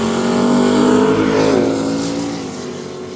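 A drag racing car roars through a pass at a Midwest drag strip, its engine loud and sustained with a steady high-revving drone that slowly eases off toward the end, no voices.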